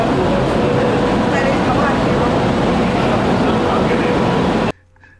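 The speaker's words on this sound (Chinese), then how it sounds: "呢架车由西九龙去到深圳北呢，系要23分钟。" A high-speed train running from West Kowloon to Shenzhen North produces a loud, steady rumble and rush from inside the carriage, ending abruptly, with speech over it.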